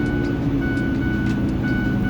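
The fan clutch fan on a 2009 Ford 6.4 Power Stroke diesel makes a steady, loud airy roar with a thin whine running through it.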